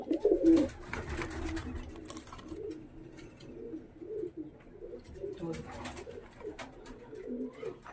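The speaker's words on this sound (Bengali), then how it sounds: "তো ভিউয়ার্স দেখতে পাচ্ছ এক পেয়ার মিয়ানাজির সাকি, দেখতে পাচ্ছ পেয়ার কত সুন্দর।" A pair of Pakistani high-flying pigeons cooing close by, with soft repeated throaty coos in irregular bursts over low background noise.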